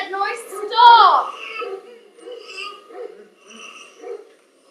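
A baby imitates a dog with yappy, barking vocal bursts, close and loud at first, then softer child vocal sounds follow in short uneven bursts.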